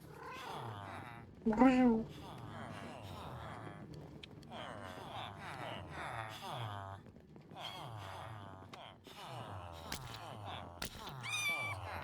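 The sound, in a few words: cat meowing and purring in Minecraft video game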